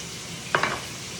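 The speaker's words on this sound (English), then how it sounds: "So I'm gonna make my sauce in the pan." Pan sauce sizzles in a pan after king salmon is cooked in butter with lemon, salt and pepper, a low steady sizzle broken by two quick utensil scrapes.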